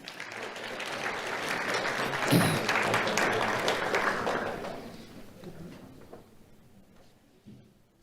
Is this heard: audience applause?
yes